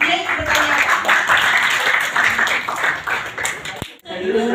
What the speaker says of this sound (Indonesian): sekarang kita kasih aplaus dulu untuk dia yang bertanya